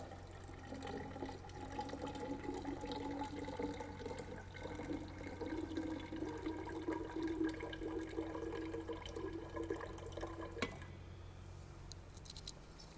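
Wastewater poured into a laboratory settling column for a hindered settling test, a steady watery pouring and splashing that runs for about ten seconds before stopping abruptly, leaving a quieter hiss.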